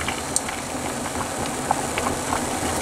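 Spaghetti boiling in a pot of unsalted water gives a steady, even bubbling hiss with small scattered pops, close by and without talk.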